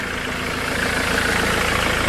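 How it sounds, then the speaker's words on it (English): A 2009 Land Rover Defender 110 hard top with 120,000 miles idles close by, a steady, even engine rumble with a faint rhythmic knock and no talk. "So you can hear the engine running."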